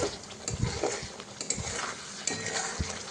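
Thick masala of cashew and poppy seed paste with a splash of water, stirred in a pan while cooking paste for paneer masala; scraping clinks and soft bubbling sizzle with a few sharp utensil knocks against the pan.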